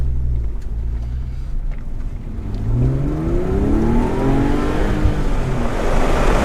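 A lightweight sports car is driven hard, its engine loud and close as revs climb and fall in rising sweeps, building to a sustained roar over road noise.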